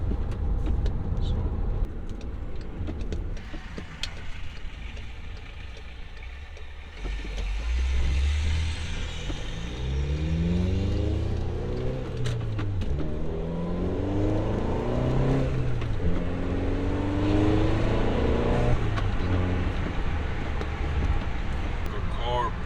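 A car fitted with a Clutch Masters FX250 clutch accelerates hard, its engine note climbing through several rising sweeps as it pulls through the gears, heard from inside the cabin under a quieter opening stretch.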